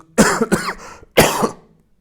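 Three or four harsh coughs in quick succession, close to the listener, with a short pause before the final cough.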